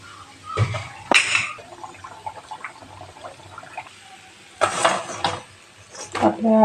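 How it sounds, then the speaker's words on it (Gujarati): Puri frying in hot oil with a quiet bubbling sizzle, broken by the clatter of a utensil against the pan at intervals. "આ રીતના આપણે બીજી પૂરી તળી લઈશું"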